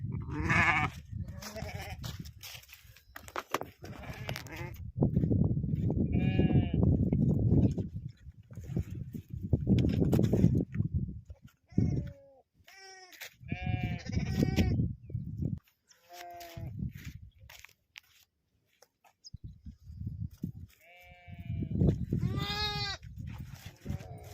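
Several sheep bleat repeatedly, some near and loud, others fainter, amid rustling and shuffling of a penned flock.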